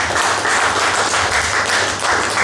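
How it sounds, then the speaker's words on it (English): Loud, dense applause for Sensei Bridg at a Commonwealth award presentation, with many hands clapping close and continuous, and no talk over it. "Once again, a big round of applause for Bridg"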